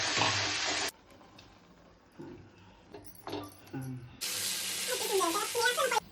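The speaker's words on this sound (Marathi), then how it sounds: "थोडंसं पाणी घालायचं." Water poured into a pan of salted masala paste while cooking comes in two loud splashing, rushing bursts, with a quieter gap in between that holds faint clinks and some soft talk.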